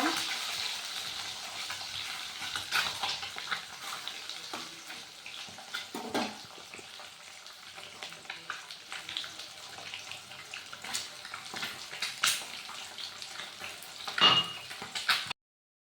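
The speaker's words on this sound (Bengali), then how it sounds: "এখন আরেক সাইডে আমি ভেজে নিব" A turmeric-and-salt seasoned egg, flipped to cook its second side in a pan, sizzles softly and unevenly nearby, with occasional sharper crackles and clinks over a low hiss.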